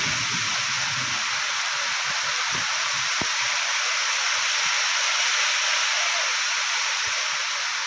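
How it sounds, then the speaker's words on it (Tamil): Rain falling at the Yercaud hill station, a steady hiss of fine drops holding even throughout, with a few soft low knocks and taps scattered beneath it and no voices. "ஏற்காடில் மழை ஸ்டார்ட் ஆயிடுச்சு."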